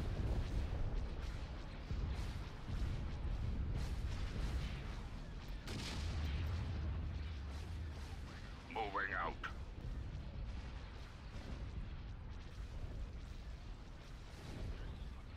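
Turbo laser cannons fire in a video game amid constant rumbling booms and blasts, with dense layered battle noise throughout and a sharp burst near the middle.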